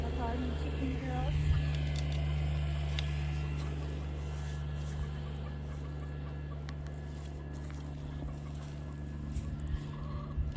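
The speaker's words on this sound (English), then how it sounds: "My little garden chicken girls." Garden chickens cluck softly, sounding faint and intermittent over a steady low electrical hum.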